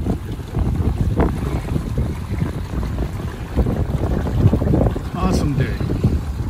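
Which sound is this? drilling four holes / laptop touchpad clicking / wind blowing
wind blowing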